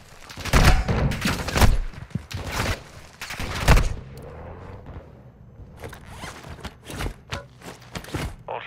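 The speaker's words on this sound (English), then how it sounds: "Taking effective fire!" Incoming gunfire in a Call of Duty video game, set in Al Mazrah, arrives as loud, close bursts of rapid shots in the first half, then sparser, fainter cracks scattered through the rest.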